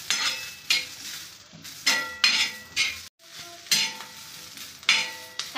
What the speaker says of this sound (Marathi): आता आपण लसणाच्या पाकळ्या टाकून घेऊया, हे भाजून घेऊया